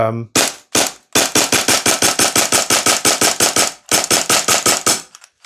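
A Tokyo Marui MP9 gas blowback airsoft gun fires rapid bursts of sharp, punchy clacks close by, with a few single shots at the start and brief gaps between strings.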